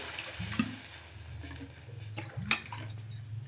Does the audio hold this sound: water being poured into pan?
yes